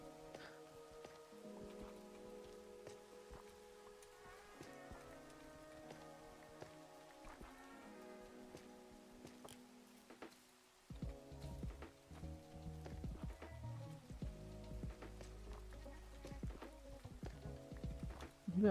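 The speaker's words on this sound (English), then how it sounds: "It's raining." Steady patter of rain in Minecraft, soft and constant, growing heavier and louder partway through under quiet background music, with no talking.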